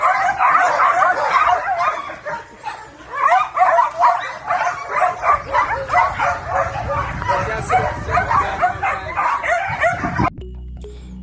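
Several dogs in Jamaica bark in a rapid, steady string of yaps and yips, loud and close, with a voice over them before the barking cuts off abruptly near the end.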